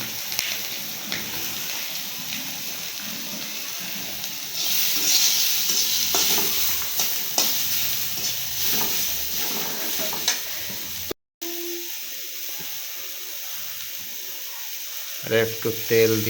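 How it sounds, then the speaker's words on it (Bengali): Chopped onion and chili sizzle in hot oil with a steady hiss and intermittent stirring scrapes, close by, growing louder midway, with a brief pause and a few clanks near the end. "পেঁয়াজ মরিচটা ভালো করে ভাজার জন্য"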